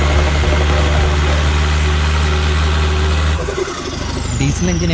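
A tuned diesel car runs with a heavy, even low rumble nearby, then the engine note shifts and eases near the end.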